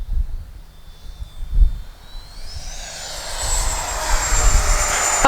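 A Freewing Yak 130 RC jet flying by low at full throttle outdoors, an electric ducted-fan whine that swells as it approaches and holds a high rising tone, with wind buffeting and no talk.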